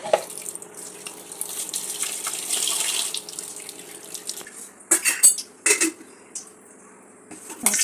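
Kola fish is rinsed under a running kitchen tap, steady water flow splashing in a sink with a few sharp clinks of a dish or pan toward the end.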